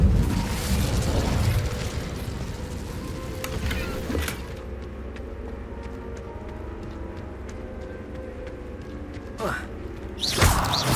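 Incendio fire spell cast in the Hogwarts Legacy video game: a loud fiery burst at the start, quieter hum through the middle, then sharp flaring bursts near the end, with game voices speaking in places.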